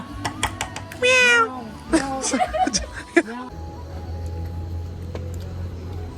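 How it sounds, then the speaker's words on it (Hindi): A cat gives one clear, drawn-out meow, with short chirpy vocal sounds around it, while people talk nearby against a low background hum. "ए, बिल्ली।"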